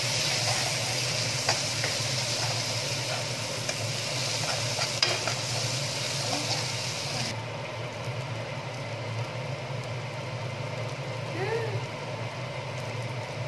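Spices stir and fry for a dried fish chutney, producing a continuous steady sizzle with soft scraping throughout.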